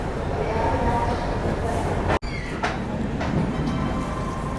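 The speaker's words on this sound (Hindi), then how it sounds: "चलो फाइनली ट्रेन हमारी डिपार्ट कर रही है Anand Vihar terminal railway station से" The 12444 Anand Vihar–Haldia superfast express pulls out of Anand Vihar Terminal, with a continuous loud rumble and rattle of the carriages, a brief sharp dropout partway through, and talk mixed into the sound.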